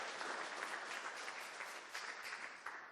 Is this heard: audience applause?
yes